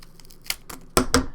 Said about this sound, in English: you're going to take your wonderfully sharp Kai scissors and you're going to curve the bottom